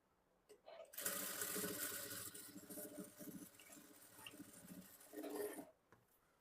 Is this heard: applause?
no